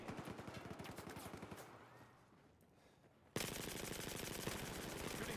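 Gunfire in the video game Battlefield 4: fast, evenly spaced automatic bursts crackle steadily, dip quieter for a moment, then resume abruptly louder and closer in a continuous stream.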